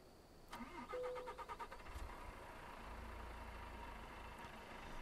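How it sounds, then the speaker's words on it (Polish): A Volvo truck engine cranks and catches in Euro Truck Simulator, with a burst of rapid starter clatter giving way to a steady, low idle rumble close by. "Także już odpalamy nasze Volvo."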